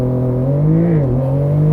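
A 2022 Porsche 911 GTS Cabriolet launching hard off the line with launch control, its engine roaring loud and close and rising steadily in pitch as it pulls through the revs.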